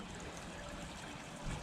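A garden water feature's waterfall splashes and trickles in a continuous, soft, even wash of running water, faint and heard alone.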